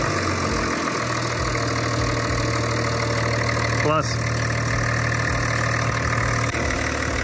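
A BMW car engine idles under the open hood, a steady, even low drone that runs the whole time, loud and close, while a man briefly exclaims over it.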